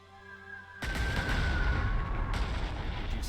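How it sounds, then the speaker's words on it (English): Strategic bomber strike on Orleans in the strategy video game Panzer Corps II: after a faint tonal hum, a sudden loud barrage of booming explosions and rattling detonations bursts in and rumbles on steadily to the end, with no talking. "I'm going to use my strategic bomber on Orleans."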